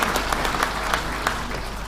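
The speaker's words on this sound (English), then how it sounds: "let's give a round of applause for the panel" A short burst of audience applause for a panel at the Grain SA Congress 2022, steady dense clapping from a crowd that continues for the whole two seconds.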